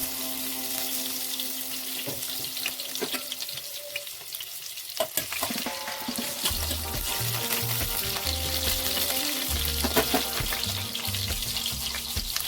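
Green chilli frying in a small amount of oil in a pan sizzles and crackles with sharp pops, joined partway through by clinking kitchen sounds and running water, with no speech.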